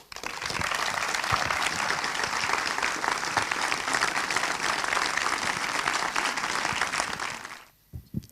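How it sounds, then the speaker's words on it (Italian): Applause in a cinema hall greeting film director Andrea Segre, a warm steady wave of clapping that swells quickly, holds for several seconds, then dies away abruptly. "vi prego di accogliere con un grandissimo applauso, Andrea Segre"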